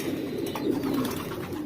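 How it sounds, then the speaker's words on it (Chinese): Soft low cooing from pigeons in a backyard loft runs steadily over a dense, continuous background hum, close and unbroken, with no talk. "准备喂鸽子了"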